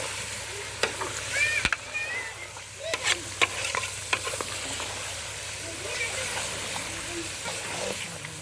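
Goat curry being stirred in a pan, curry leaves added, with soft sizzling and intermittent spoon scrapes and knocks against the pan; faint talk in the background.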